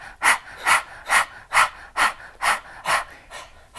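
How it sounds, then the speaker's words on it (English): Rapid breath-of-fire yoga breathing: eight or nine sharp, forceful nasal exhales in a steady quick rhythm, close and clear with no talking. "You're doing breath of fire."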